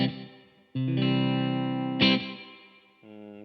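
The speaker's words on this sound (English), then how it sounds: "that is a digital delay with very, very short time and feedback" Electric guitar through a very short digital delay with feedback and plate reverb, sounding as sustained, shimmering chords with a metallic, doubled edge; three loud strummed chords ring out in turn, then a softer fourth chord follows.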